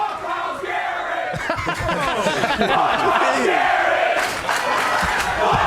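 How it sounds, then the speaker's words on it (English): Pittsburgh Steelers fans at a training camp event cheer and yell in a swelling, chant-like roar that grows louder midway, with individual voices shouting over the crowd. "let's listen to what the Pittsburgh crowd has to say"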